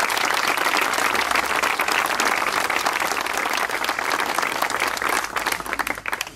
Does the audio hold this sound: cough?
no